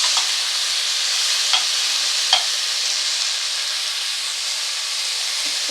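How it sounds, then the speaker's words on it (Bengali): Drumstick (moringa) stalks stirred in a hot frying pan, a steady loud sizzle and hiss with a few scraping stirs of the spatula, no talking. "ডাঁটাগুলোকে দিচ্ছি, কারণ আগে দিলে এগুলো গলে যেত, তো সেই জন্য কষি তো আমি সব ডাঁটাটাই দিয়ে দিলাম। ভালো করে নেড়ে দিচ্ছি।"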